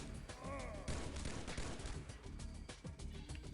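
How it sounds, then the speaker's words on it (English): Cannon fire booms in the XPiratez video game, a dense barrage of overlapping blasts and thuds rolling on continuously, loud and close, with no talking. "that sounds like my cannons are gonna have some fun"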